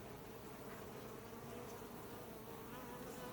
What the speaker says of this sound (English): Is that a small hive beetle?